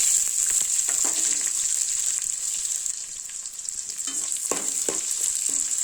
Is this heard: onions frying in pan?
yes